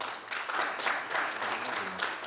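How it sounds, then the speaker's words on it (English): An audience at a media launch event gives a round of applause, many hands clapping in a dense, lively burst at moderate volume, a few louder claps standing out. "Let's give her a round of applause."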